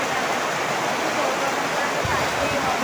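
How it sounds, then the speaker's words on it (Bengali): Heavy monsoon rain pours down steadily, a loud, continuous broadband rush of water close by with no break, as water leaks into a house and collects in basins. "বৃষ্টি নেমেছে পুরো একদম পুরা মানে ভাসে নিয়ে যাচ্ছে"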